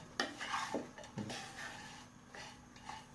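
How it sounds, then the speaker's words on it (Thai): Utensil scraping and clinking in a pan while taro filling with steamed taro, sweet potato and a little salt is stirred dry, a few distinct knocks and scrapes at close range, with no talking. "เดี๋ยวผัดไปเรื่อยๆนะ"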